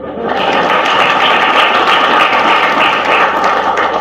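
Audience applause at a Ugandan gathering welcoming General MK's return: a dense, loud, continuous burst of clapping from a large crowd, steady for several seconds.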